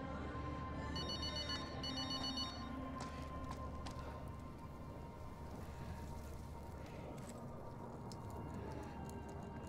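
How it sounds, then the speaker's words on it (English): A telephone rings in Call of Duty: Modern Warfare, Hometown level, as a short electronic ring burst early on over steady rain-like game ambience, then fades into the background noise. "The phone's ringing from over there"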